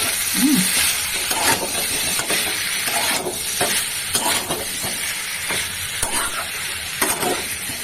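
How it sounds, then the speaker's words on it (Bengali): Vegetables and spices sizzle steadily in a pan for a vegetarian dish, while a spatula stirs and scrapes in regular rhythmic strokes, close and without talk. "আরো কষাবো, কাঁচা গন্ধটা মানে চলে যায়।"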